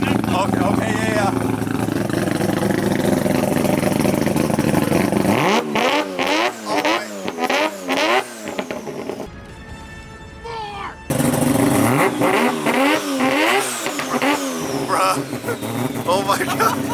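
A Mazda RX-7 with a 20B rotary engine revs hard through its exhaust, loud close blasts rising and falling in repeated throttle stabs, with a brief cut in the middle before the revving resumes; people talk over it.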